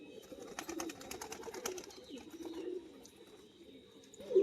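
A male Phulshira pigeon gives low, rolling coos close by, mixed with faint chirps and light clicking, under a quiet background hum.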